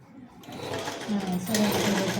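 A sewing machine stitches a body skirt in a tailoring class, a steady close motor hum building over a couple of seconds.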